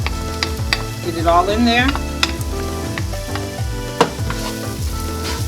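Yellow and red onions sauté in butter and olive oil with a strong, steady sizzle and repeated stirring scrapes, while a voice speaks briefly over the frying.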